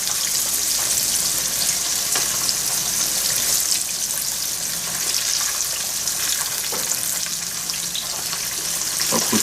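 Food frying on a home oven's grill top gives a steady, loud sizzle with crackling throughout, with no talking over it.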